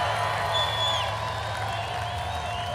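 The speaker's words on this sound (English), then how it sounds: "Look at this crowd we have here." Crowd at a Donald Trump political rally cheering and whooping in a sustained, distant roar beneath an amplified speaking voice.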